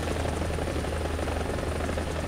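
An attack helicopter flies in a video game, its rotor thrumming loud and steady with a dense, rumbling engine roar that never lets up.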